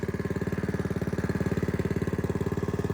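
A Craftsman DT tiller's small engine, just repaired after mouse-chewed ignition wires, idles close up with a steady rapid chugging pulse and no other sounds.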